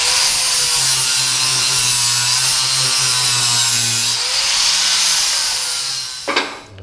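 Flap disc grinding a steel tube to contour it for a 1.5 inch tube joint on a tube chassis front end, a loud continuous abrasive whine that winds down near the end.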